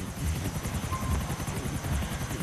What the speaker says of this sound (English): We got into a chopper.